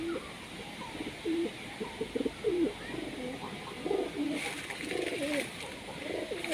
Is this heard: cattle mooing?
no